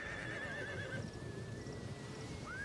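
Horses whinny shrilly amid the battle noise of the video game Total War: Attila, with one long neigh at the start and a shorter one near the end over a steady background din.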